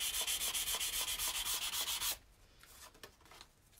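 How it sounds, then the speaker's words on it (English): An edge of a book board is bevelled during a book restoration with a rapid, rhythmic rasping rub of about a dozen loud close strokes. It stops abruptly after two seconds, leaving faint scattered scuffs. "just beveling the edge"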